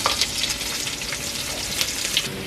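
Onion and mustard seeds fry in a pan as the start of a vegan vegetable curry, producing an even, close sizzle with faint crackling pops throughout and nobody speaking.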